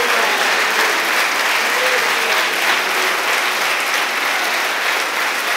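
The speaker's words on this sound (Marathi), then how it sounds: "आज सगळेजण म्हणून घोषवारा करतील, टाळ्या वाजवतील" Church congregation clapping together, a loud, dense and sustained round of applause filling the hall for several seconds, with faint voices mixed in.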